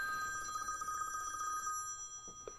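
A telephone bell rings with a steady, bright trilling tone that continues for over a second and a half, then stops, followed by a couple of faint clunks, indoors near pinball machines.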